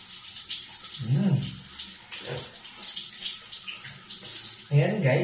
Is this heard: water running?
yes